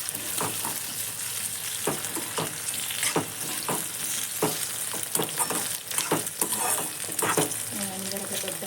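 Potatoes fry in oil in a pan for poha, a steady close sizzle under repeated scraping stir strokes of a spatula, with a faint voice briefly near the end.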